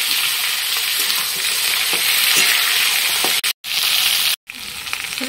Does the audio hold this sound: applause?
no